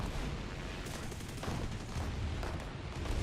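Guns on a Reggiane 2000 fighter plane in War Thunder hammer out loud, continuous bursts of rapid gunfire, with sharp cracks and booms packed densely over the whole stretch.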